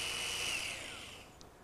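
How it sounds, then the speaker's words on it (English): A sheep shearing machine's motor runs after being oiled, a faint, brief high whine that drifts in pitch and fades, alone with no talk. "you'll hear the motor start speeding up"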